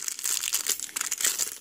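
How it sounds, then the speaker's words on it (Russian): Crinkly, close rustling of a plastic parcel bag being opened, a dense run of bursts of crackling plastic with no talking. "Сейчас открою пакетик, пошуршу немножко, извиняюсь"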